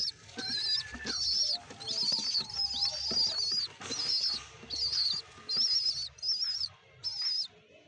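Pigeons call nearby in a rapid series of about ten short, high-pitched squeaky cries, repeating in a steady rhythm with brief gaps between them.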